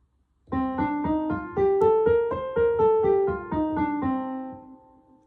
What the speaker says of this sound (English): So Dorian sounds like this.